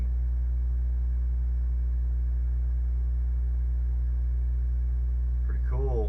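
A Commodore 64 home computer, bought cheaply used, putting out sound in a test: a steady loud low hum with sustained tones throughout, and a brief warbling chirp near the end.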